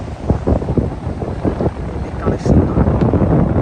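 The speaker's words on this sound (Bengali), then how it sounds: "সেজন্য বাতাস অনেক বেশি আজকে, এই জন্য ঢেউগুলো অনেক বড় লাগতেছে।" Strong wind buffets the microphone on Cox's Bazar sea beach under a cloudy sky, with big waves surging in a low, rough roar throughout; a voice speaks briefly.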